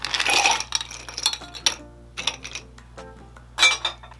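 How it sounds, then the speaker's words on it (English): Ice cubes go into a cocktail glass while a Negroni-style Campari drink is being made, giving several bright clinks and rattles in scattered bursts over a few seconds, close and crisp, with no speech. "Add ice to the glass."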